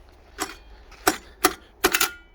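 A loader engine's recoil starter with a broken spring, heard as four sharp rattling pulls in quick succession, each a brief scraping clack, close and fairly loud with no talk.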